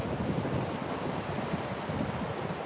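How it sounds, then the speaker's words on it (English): Wind-whipped, choppy ocean waves on a sunny, cold, windy morning beach make a steady broadband wash with constant surf roar and gusting wind noise on the microphone, with no voices heard. "the waves are gorgeous this morning. Yeah, extra ripply because of the wind, I suppose. Extra choppy."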